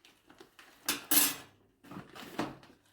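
A long-handled spoon is handled among lightweight camping gear, giving a few soft clinks and scrapes, two clusters of brief metallic rattles against quiet background, close and fairly faint, with no voice.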